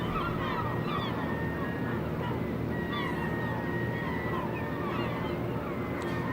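A flock of seabirds feeding near a fish plant, many birds honking and calling over one another in a dense, steady outdoor chorus.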